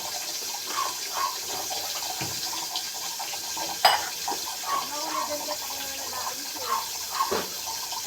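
Dishes being washed under a running tap, with water splashing steadily and occasional clinks of plates and cutlery, plus one sharp knock; a voice talks intermittently over it.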